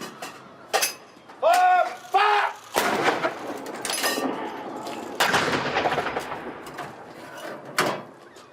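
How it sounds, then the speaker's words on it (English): Artillery guns firing blank rounds in a ceremonial gun salute at Cardiff Castle, heard as several loud, sharp booming reports spaced a few seconds apart, each followed by metallic clanks as spent shell cases are ejected, with outdoor crowd murmur between. "You'll see the firing and then the discharge of the shell case."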